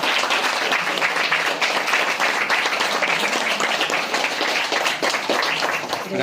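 A crowd at a memorial celebration for Brahmarshi Patriji in the Mahaparinirvana Mandir claps hard and continuously, a thick, even roar of many hands that never lets up.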